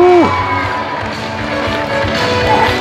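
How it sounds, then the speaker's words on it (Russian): Audience at a dolphinarium show in Bolshoy Utrish cheering and applauding, a dense crowd roar with scattered claps and shouts running steadily throughout, opened by a brief whistle-like tone. "аплодисменты!"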